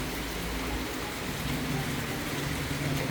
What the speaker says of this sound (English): this is what is happening, which means it's a rainy day in Ghana.